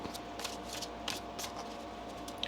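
A deck of tarot cards is shuffled in a few quick, soft riffling bursts, close by and quiet, with a faint background hum and no speech.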